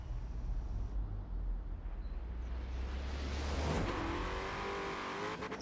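Race car engine roaring in a Forza Horizon 4 race, a steady loud drone that builds into a rising rev near the end, with faint tire noise and no talking.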